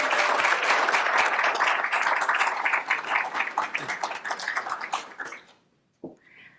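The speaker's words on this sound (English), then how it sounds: "let's give a round of applause for everybody" A hall audience at a hospital faculty promotion celebration claps steadily and fairly loudly for over five seconds, the applause thinning and stopping, followed by a brief isolated knock.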